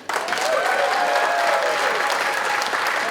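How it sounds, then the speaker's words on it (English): Gala ball audience at a Barbados independence anniversary celebration breaks into a dense, sustained round of applause, loud and close, with a few whistle-like tones and cheers riding over the clapping throughout. "please give a round of applause to Miss Alison Buchanan"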